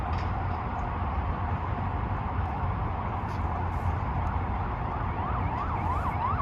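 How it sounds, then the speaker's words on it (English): A siren wails faintly in the distance, rising and falling over a constant low rumble of city traffic in Lower Manhattan, New York City. "The sounds of the city, the sirens have started."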